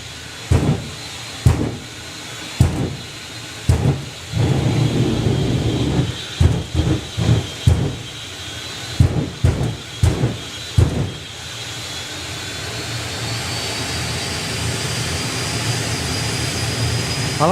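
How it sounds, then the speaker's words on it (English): A jet turbine drag car at a doorslammer drag racing event winds up, its whine rising over repeated sharp bursts, then settling into a steady, building roar with no talk. "Well, as Perry starts winding the turbine up with a little bit more thrust."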